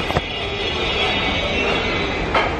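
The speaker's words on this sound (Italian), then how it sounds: "Stranamente il treno è anche in orario." A train in motion, heard as a steady loud rumble and broadband roar with a faint high whine and a couple of brief clanks, no talking.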